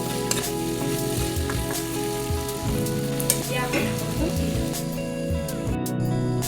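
Raw chopped onions and chili fry in oil for an Assamese local chicken curry, giving a dense continuous sizzle with the clatter and scrape of a ladle stirring throughout.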